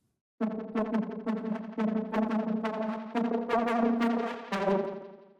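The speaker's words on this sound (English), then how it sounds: "Which is just a saw wave and a sine wave, I think, with a lot of processing." A bright, heavily processed synth lead built from a saw wave and a sine wave plays rhythmic chords with repeated stabs, buzzy and layered, sustained and building slightly in loudness.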